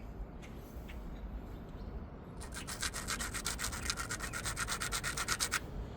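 An obsidian stone point from Glass Buttes is having its edge ground, a steady, faint scratchy rubbing that gets a little louder and more rhythmic over the last few seconds.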